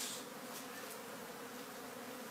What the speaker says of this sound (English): let me get the big bucket that has the bees.